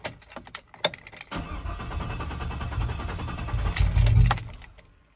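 A big cam LS V8 car engine cranks with a loud, sustained rough churning after a few sharp clicks and rattles, rising toward the end before cutting off.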